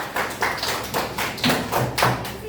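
Rhythmic group clapping from classroom children for a student group, in regular bursts of several claps each, close and fairly loud with faint voices underneath.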